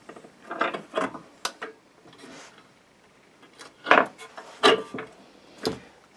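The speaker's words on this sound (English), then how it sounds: "So we're just tightening up the bottom ones down" Wooden clamp handles being turned and tightened on a glued wood blank for a custom Telecaster guitar body, giving scattered creaks and knocks of varying loudness, with louder sharp bursts later in the sequence.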